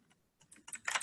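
Soft clicks of typing on a computer keyboard, a short quiet burst of keystrokes building into quicker, denser taps toward the end, close by with no voices.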